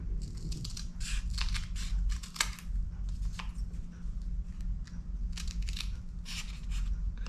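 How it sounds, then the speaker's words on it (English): Repeated crisp snips of scissors cutting through fabric, a dozen or so quick slicing strokes at uneven intervals, close and fairly quiet. "I like to take the stick pin out and cut"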